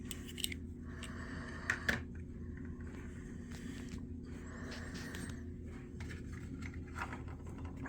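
A Lehman hand trimmer cuts .35 Remington rifle cartridge brass on a reloading bench, giving quiet, close snipping and scraping clicks in scattered bursts over a faint background hum.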